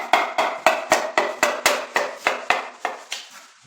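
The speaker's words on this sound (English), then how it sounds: "I'm just going to grab my hammer, punch it in." A series of about twelve evenly spaced metallic hammer taps punching a lubricated piston into a 4.8 engine block, steady and close, fading slightly toward the end.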